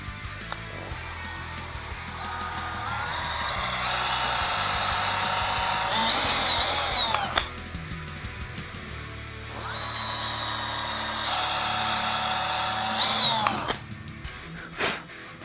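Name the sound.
power drill pre-drilling screw holes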